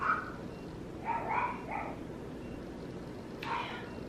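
Pet dogs give a few scattered barks and yips at moderate distance, a quick cluster followed by a pause and one more bark, with faint background noise and no voices.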